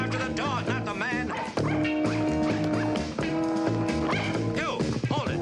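Dog barking in a classic crime mystery drama, rapid yapping barks mixed into dense orchestral music and excited action sounds, loud throughout.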